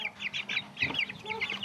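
Chickens raised by schoolchildren at a Japanese school cluck and peep close by, a quick series of short, high calls packed into a moment, with faint activity around them.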